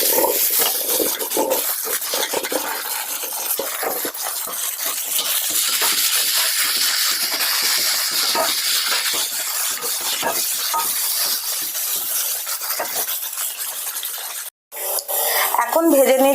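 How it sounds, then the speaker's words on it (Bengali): Cauliflower frying in a pan during large-batch cooking for about 45 people, a dense continuous sizzle with busy scraping and metal clatter, a brief cut near the end, no talking. "এবার আমি ফুলকপিগুলো ভেজে নেব।"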